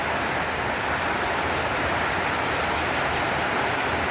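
Steady, dense rain falling in a June downpour, an unbroken broadband hiss that stays constant and close with no gaps, no voices.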